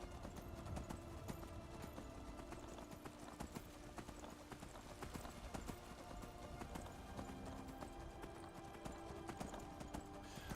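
Horse hooves clip-clop steadily in a Skyrim survival playthrough around Whiterun Hold, a continuous brisk rhythm of hoofbeats with an occasional faint whinny over dense game ambience.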